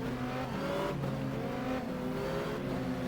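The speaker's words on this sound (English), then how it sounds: "listen to this engine" A race car engine in the video game GTR2 holds a loud, buzzing rev, its pitch wavering slightly with no voices.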